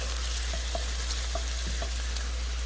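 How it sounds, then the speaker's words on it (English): Garlic frying and sizzling in a pan as part of a Sunday dinner, a steady close hiss with a few soft stirring clicks and no voices. "So we're going to go ahead and add that garlic"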